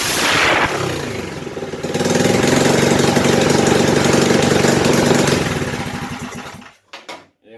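A built Predator 440cc engine on a Harbor Davidson minibike runs loud and close with a rough, pulsing idle that swells and holds, then cuts off abruptly, leaving a few faint knocks.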